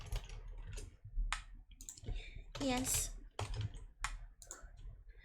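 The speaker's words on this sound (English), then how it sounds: "Do you fishies like the keyboard noises?" A computer keyboard clatters in quick, irregular bursts of close, crisp key clicks. A person talks briefly between the bursts.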